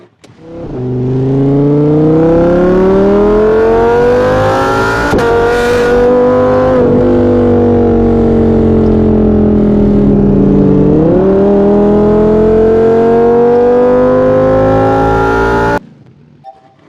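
A car in the video game Off the Road drives with a loud, continuous engine drone, its pitch rising and dipping through several gear changes before cutting off abruptly near the end.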